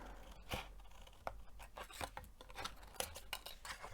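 Scissors snipping through paper tabs on a patterned sheet while a desk caddy is being made, heard as a string of soft, close cuts and rustles of paper at an uneven pace, fairly quiet and without speech.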